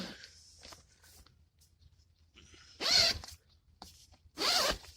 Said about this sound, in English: move the zipper however you need to